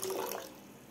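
Water poured onto washed dal and rice for palak dal khichdi, a short close splashing pour that is loudest at the start and then fades to a softer trickle.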